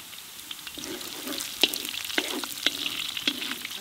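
Green chili tossed onto whole chickens frying in a black kadai brings a loud, close sizzle, broken by sharp clinks and scrapes of stirring, with no talk.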